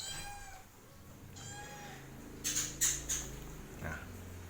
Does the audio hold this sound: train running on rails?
no